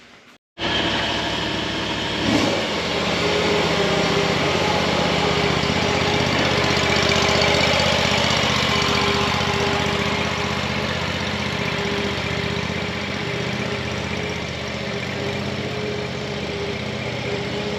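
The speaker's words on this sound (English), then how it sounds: "She's riding that lawnmower." A riding mower's engine runs steadily and loudly throughout, a continuous close-up drone with no voices.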